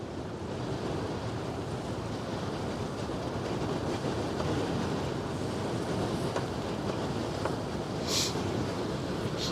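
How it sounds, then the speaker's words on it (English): Strong wind blows outdoors beside the Westerschelde waterway in the Netherlands, a steady, loud roaring rush with occasional gusts and faint clicks. "It's extremely windy today."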